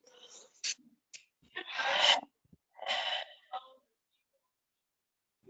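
Audible breaths drawn and released during a guided forgiveness session, several raspy inhales and exhales spaced across a few seconds, close and fairly soft, with a brief voice at the start.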